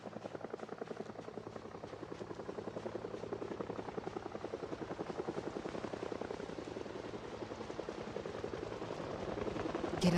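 A video-game helicopter chops steadily overhead for about ten seconds, a continuous rhythmic thumping that swells slightly louder toward the end, with no talk.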